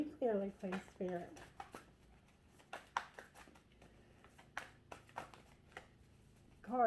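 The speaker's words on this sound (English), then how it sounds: "Cards are shuffling really hard." Tarot cards shuffled hard for a private reading, a run of sharp, irregular riffling snaps and flutters between bursts of a woman's speech.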